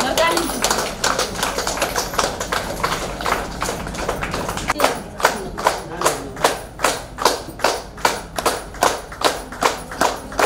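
An audience claps at a Nepali gathering, the applause building from scattered taps into steady rhythmic unison clapping, loud and close, with a voice heard early on.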